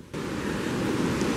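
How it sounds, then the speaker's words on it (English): Strong wind storm with 40 to 60 mph gusts roaring through woods around a yurt, a steady loud broadband rush that swells in after a brief quiet start and holds without pause. "We are getting about 40, 50, sometimes 60 mile per hour gusts."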